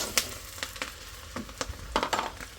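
Ginger garlic paste hits hot, foaming mustard oil in a pan, giving a close, steady sizzle with sharp spitting crackles and no talking.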